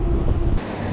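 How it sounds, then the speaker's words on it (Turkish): Strong wind from the left buffets the microphone while cycling along village roads near Mudanya, Bursa, a loud, steady low rumble with no talking. "Soldan bayağı bir rüzgar var."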